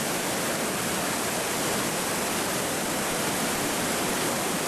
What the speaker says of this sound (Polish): Wodospad Torp ma 20 metrów wysokości oraz 110 metrów długości.